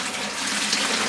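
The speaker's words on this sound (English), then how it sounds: "I'm going to pour another liter of water." A liter of water poured into a dye pot for a natural tannin dye bath, a steady close splashing gush lasting about a second, with no talking.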